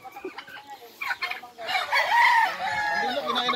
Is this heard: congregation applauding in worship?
no